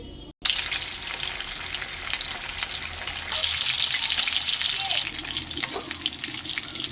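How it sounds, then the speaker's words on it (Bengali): Fish frying in hot mustard oil in a wok, a loud bubbling sizzle that bursts in after a brief silence and stays strong and close. "সরষের তেল দিয়ে দেবো। তেলটা আমার গরম হয়ে গেছে, এবার মাছগুলো দিয়ে দেবো।"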